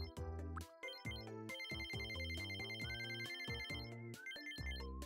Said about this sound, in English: It sounds like a phone call.